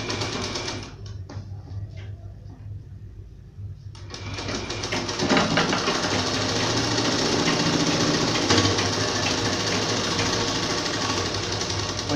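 A sewing machine stitches a folded two-inch hem on a ladies' trouser, a rapid mechanical chatter that starts after a brief lull and then runs loud and continuous close by.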